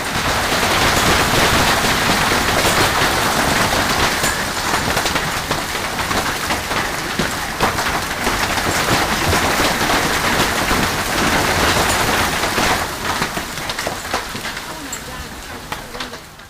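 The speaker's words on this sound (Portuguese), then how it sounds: "O granizo do tamanho de bolas de golfe é um mito?" Golf-ball-sized hail pounds down during an Arizona storm, a dense, continuous loud clatter of impacts with no voices, easing slightly toward the end.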